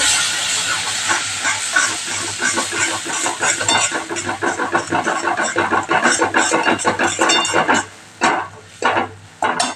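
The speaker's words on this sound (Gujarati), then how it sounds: "અહીંયા આપણે બે ચમચી જેટલું પાણી ઉમેરશું આપણો મસાલો બળી ન જાય એટલા માટે" A couple of spoons of water go into frying masala for Kathiyawadi masala bhindi, raising a loud, close hiss and sizzle with stirring scrapes that breaks into short gaps near the end.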